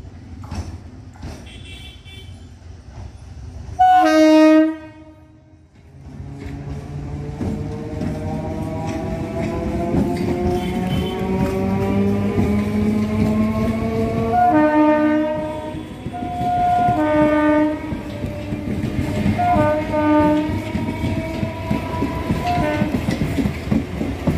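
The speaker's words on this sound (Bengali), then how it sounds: "এই যে ট্রেন আসছে" A train on the Tarakeswar line passes a level crossing at Singur in West Bengal. A loud horn blast is followed by several shorter horn calls over the rumble and clatter of wheels, all close and prominent.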